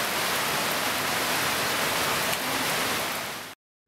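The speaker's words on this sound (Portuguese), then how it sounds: "Saindo do Lago Sampaio, começa uma chuva forte," Heavy tropical rain pours steadily in the Amazon region near Lago Sampaio, a dense, continuous hiss of drops close by that holds evenly and then cuts off abruptly.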